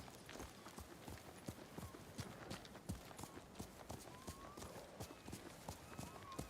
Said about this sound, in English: What do you think of that horse, Luna?